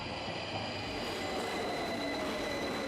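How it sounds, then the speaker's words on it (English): An underground train's wheels squeal with high metallic tones as it brakes to a halt at a station, over a steady rumbling roar of the carriages. "It screeches to a stop"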